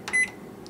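A microwave oven heating a bowl of SpaghettiOs gives a single short electronic beep from close by, then a quiet hum.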